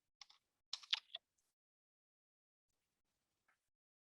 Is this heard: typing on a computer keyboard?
yes